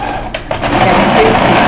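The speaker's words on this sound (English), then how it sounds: "Back stitch, secure it again." A sewing machine back stitching a seam on a fabric bag made from scraps, a short, close whirring run that starts after a brief pause and hums steadily to the end.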